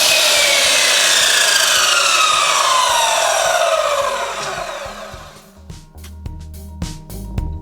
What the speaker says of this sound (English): I lock the saw. I make the cut.